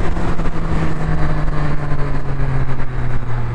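A Triumph Street Triple RS motorcycle fitted with an Arrow exhaust runs near the microphone, a loud steady engine drone with a strong low hum and a throbbing pulse, no talking.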